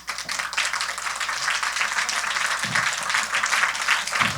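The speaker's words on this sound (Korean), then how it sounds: "여러분들이요, 중심에서 하나님 앞에 막 감사의 박수로 한번 올려드리세요" A church congregation at a Korean sermon claps together in thanksgiving, a sustained moderately loud patter of many hands with a low hum underneath.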